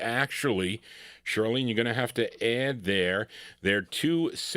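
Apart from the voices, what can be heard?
No everyday noise stands out behind the speech.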